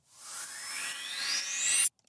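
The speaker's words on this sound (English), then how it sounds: "Then we have this tonal riser." A tonal synth riser climbs steadily in pitch over about two seconds as part of a dance track breakdown, building in brightness and loudness before cutting off abruptly into near silence.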